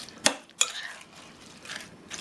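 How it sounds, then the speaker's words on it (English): Crispy French fried onion rings dropped onto green beans, a few quick, faint crunchy rustles and light taps against a dish, close by in a quiet kitchen. "Now I'm adding the onion rings, French onion rings"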